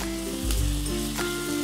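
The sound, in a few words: chopped onion frying in oil in a pan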